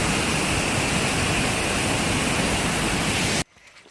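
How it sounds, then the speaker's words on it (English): A jungle waterfall in Costa Rica roars as a dense, steady rush of water that fills the sound, then cuts off abruptly near the end, leaving a quiet background. "So that was the beautiful waterfall"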